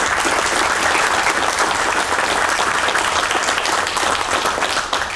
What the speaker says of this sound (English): I'm going to applaud.